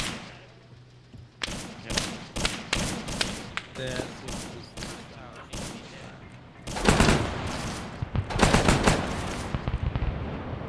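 Rapid gunfire from a player shooting in a 1960s Argentina campaign video game against insurgents: sharp shots come in bursts and volleys, loud and near, growing denser toward the end, with talk underneath.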